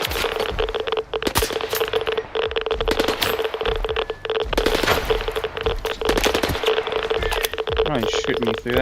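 Enemy gunfire in S.T.A.L.K.E.R. 2 rattles in dense rapid bursts throughout, loud and continuous with sharp repeated cracks, under an in-game radio or voice layer.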